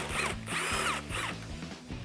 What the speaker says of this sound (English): grab your 10mm socket and remove the last bolt up top